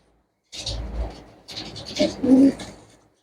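Pigeons offered at a sale coo in two short, close bursts of low, throaty calls, with brief rustling between them.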